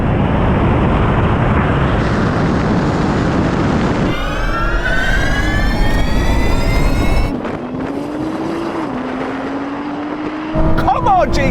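A Porsche 911 Turbo S and a 1,100-horsepower Nissan GT-R launch in a drag race, their loud, close engine roar climbing in pitch through rising gear sweeps with distinct shifts, then easing off before another burst of acceleration.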